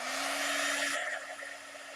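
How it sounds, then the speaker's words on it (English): A hair dryer's steady whirring blower hum with a constant airy rush, close by, shifting slightly in tone partway through. "give me just a second with the dryer"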